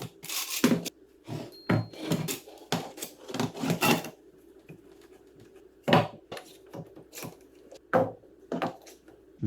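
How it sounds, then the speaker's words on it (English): Wooden coffee tabletop boards, freshly glued and joined, being laid down and clamped: a series of sharp knocks, scrapes and metallic clamp clatters in irregular bursts, close and fairly loud, with quieter gaps between. "I'm going to lay it down and clamp it."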